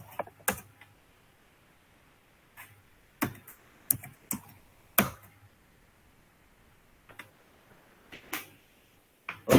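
Keys tapped on a computer keyboard while entering a Python command line, heard as several short bursts of clicks separated by quiet pauses, fairly close and alone.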